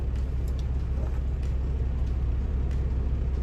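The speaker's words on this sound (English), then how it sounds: "the truck is running, so I hope you can still hear me well" A parked food truck's engine idles as a steady, close, low rumble throughout, with no talking over it.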